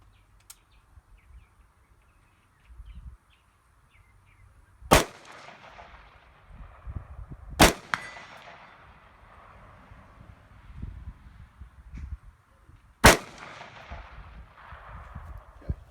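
Three sharp rifle shots crack loudly at irregular intervals during a scope accuracy test. Each report rings with a long echo over quiet outdoor ambience with faint bird and insect sounds.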